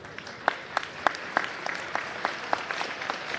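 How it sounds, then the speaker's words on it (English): The crowd at a Riverton vs Wheatland basketball game applauds as an injured player gets back to her feet, giving sharp, evenly spaced claps that stand out over a softer spread of clapping. "None too steady, unfortunately, for Brindley Heimschoth as the crowd applauds."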